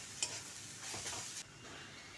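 Soybean chunks sizzle as they are sautéed and stirred in a pan, a steady frying hiss with scraping stirring strokes and a brief clink near the start, no voice over it.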